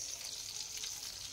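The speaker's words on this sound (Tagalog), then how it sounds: "Guys, ga prito ko talong." Eggplant frying in a pan, a constant close sizzling crackle of hot oil with no pauses and no talking.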